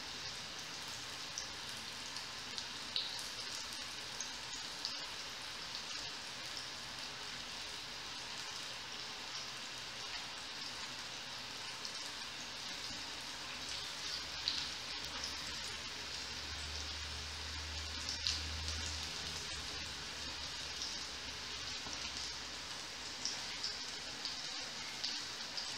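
Sweet potato and salt cod croquettes frying in hot oil, a steady, even sizzle with scattered pops and crackles running throughout, close and moderately loud.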